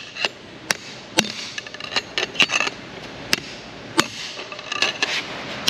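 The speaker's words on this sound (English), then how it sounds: "Just gonna take this thing and smack it out with a hammer on the end of our pry bar here." A hammer strikes the end of a pry bar to knock out a wheel hub on a 2002-2007 Silverado 3500 6.6 full floating axle, sharp metallic clanks landing irregularly, about a dozen close, loud hits.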